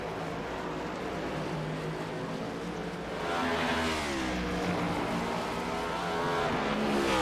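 Race cars lap Watkins Glen in a racing video game, a steady mid-level engine drone that rises in pitch partway through as a car accelerates, with no voices.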